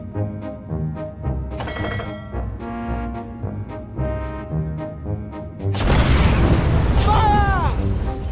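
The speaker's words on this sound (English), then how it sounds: "Torpedoes away!" Ship torpedoes launch in the space naval game Treasure Planet: Battle at Procyon, a heavy booming burst and rushing whoosh arriving after musical tones and voices, loud and close.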